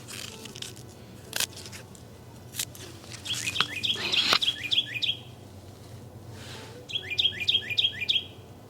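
A small bird sings nearby in a garden in repeated quick bursts of high chirps, with a few clicks and rustles between phrases.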